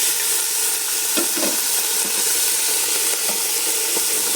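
Beef pieces sizzle steadily in a pot while cooking bulalo, a dense continuous frying hiss with a few louder crackles and stirring clatters near the start, no talking.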